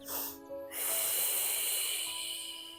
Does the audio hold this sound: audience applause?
no